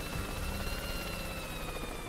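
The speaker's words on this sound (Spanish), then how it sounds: "No, está rotísimo ese helicóptero, gente." A helicopter in the Worms artillery game drones as a faint, steady whirring hum that holds evenly throughout, with no one talking.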